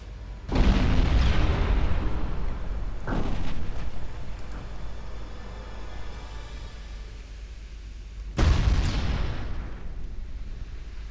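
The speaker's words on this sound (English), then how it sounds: "my 16-inch guns are starting to put in some work now" Sixteen-inch naval guns firing high-explosive shells in Ultimate Admiral Dreadnoughts, three heavy booming blasts, one at the start, one a few seconds later and another near the end, each leaving a long rumbling tail.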